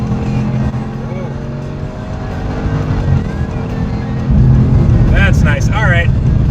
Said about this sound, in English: So I went down from 8th to 5th, and let's give it a little gas.